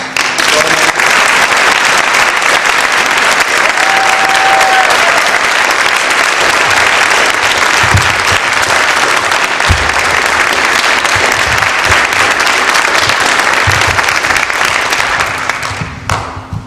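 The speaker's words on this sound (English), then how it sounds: "let's give them a round of applause" A crowd at an event for students breaks into sustained, loud applause that holds for over fifteen seconds before tapering off, with faint voices mixed in.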